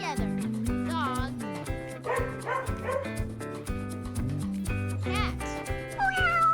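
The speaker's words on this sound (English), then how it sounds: "Dog." A dog barks a few times amid a busy children's song with steady music and a sung voice throughout, the animal calls mixed into the backing.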